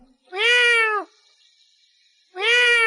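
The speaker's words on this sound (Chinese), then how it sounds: "又听到了隔壁天台上传来了一阵猫叫声" A cat on a neighbouring rooftop gives two clear, drawn-out meows, close and loud, separated by a pause of about a second.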